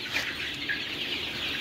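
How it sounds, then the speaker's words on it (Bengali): Egyptian Fayoumi chickens, ten days into breeding and kept at a market, cluck steadily in a broad bright chatter that fills the whole short stretch at close range without a break. "মিশরীয় ফার্মি মুরগি,"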